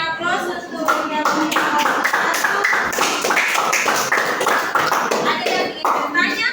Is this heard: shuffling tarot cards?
no